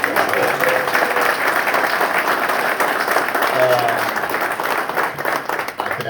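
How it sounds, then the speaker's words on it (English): An audience at a 2021 golf presentation gives a sustained round of applause, dense and even clapping that fills the whole stretch with no break. "So I want to give a round of applause."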